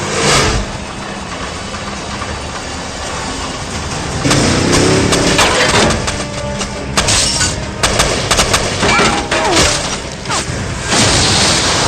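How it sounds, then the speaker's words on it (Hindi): Loud, continuous movie gunfire crackles and booms over a rumbling engine, with dense bursts and sharp cracks piling up throughout. "गोलियां चलाओ।"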